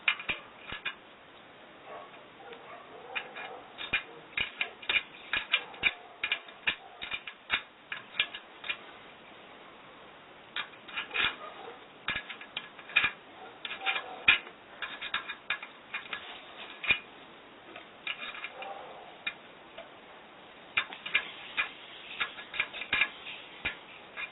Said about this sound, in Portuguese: E apertamos os parafusos.